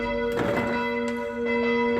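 Church bells of St. James church in Bronn ring out, a steady sustained peal with overlapping strikes and a long ringing hum, heard clearly with no voices.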